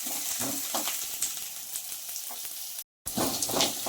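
Carrots and potatoes fry in a pan, a steady close sizzle with scattered crackles and a few stirring clicks, broken by a brief dropout near the end before the hiss resumes.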